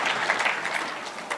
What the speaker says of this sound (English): Let us clap for the Lord Jesus